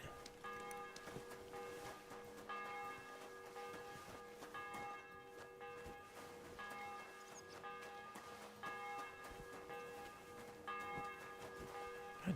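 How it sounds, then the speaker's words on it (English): A church bell tolls in the video game Kingdom Come: Deliverance II, striking over and over at an even pace about every second and a half. The strokes sound faint and distant and ring out alone with no talk over them. "The bell's ringing for Hans the 5th time."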